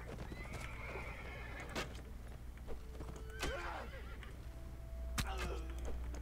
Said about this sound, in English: What's this horse doing over here?